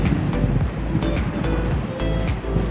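Strong sea waves at Little Boracay beach in Kalamansig, loud surf churning close by with heavy low rumble and gusts of wind buffeting the microphone.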